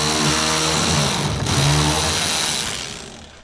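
An electric ratchet removing headlight bolts on a truck, a loud, close, continuous motor whir that briefly dips before running again and then fades.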